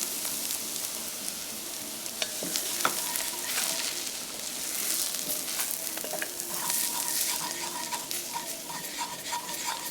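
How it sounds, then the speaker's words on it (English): Flour cooking in a pot as the base for shepherd's pie soup, a soft continuous sizzle with scraping and tapping from a spoon stirring, close and fairly quiet with no talking. "I'm just cooking out the raw flour taste."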